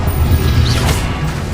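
Spell effects in Hogwarts Legacy, a loud, dense crash and rumble of magic impacts with a brief whooshing sweep in the middle, continuous through the short moment.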